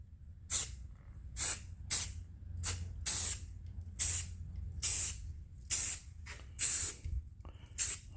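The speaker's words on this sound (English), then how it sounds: "I'm going to apply a tack coat now." Black spray paint goes on as a tack coat over masked stripes on an Elsinore tank, heard as about ten loud, close hissing bursts of a second or so each, separated by short gaps over a low background rumble.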